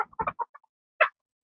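Laying hens in a laying nest give a quick run of short, close clucks, then pause before one louder, drawn-out cluck.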